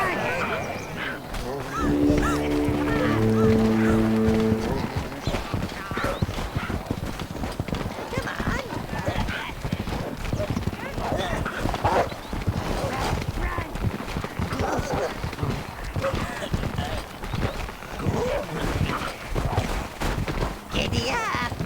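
Horse hooves gallop in a rapid, steady clip-clop rhythm in the video game Overlord II, with voices and game sounds mixed over the hoofbeats.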